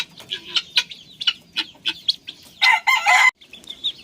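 Chickens cluck in short, choppy bursts on a Philippine farm, and a rooster lets out one loud, close crow partway through before the clucking resumes.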